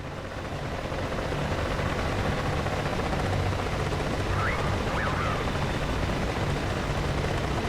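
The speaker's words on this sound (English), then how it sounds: "Let's take a quick break and check out our helicopters." Helicopters in the DCS World flight simulator, a steady droning rotor and engine roar with a low pulsing hum, filling the scene continuously at constant loudness, with a couple of brief whistling tones midway.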